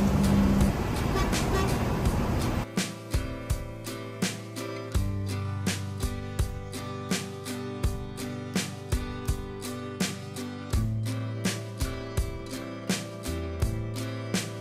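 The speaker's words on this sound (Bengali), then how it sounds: "এখন আমাদের বাস রওনা দিবে এবার একদম ঢাকা" A bus engine idling and pulling away, a low steady rumble with a rising drone, accompanied by a regular series of sharp ticking clicks, close and continuous.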